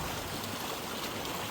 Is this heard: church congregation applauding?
no